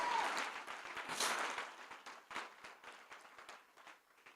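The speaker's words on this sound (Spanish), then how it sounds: "Dale un fuerte aplauso al Señor Jesucristo." Church congregation clapping during a Spanish-language sermon, starting as a fuller burst and thinning into scattered, individual claps that fade out over a few seconds, fairly faint.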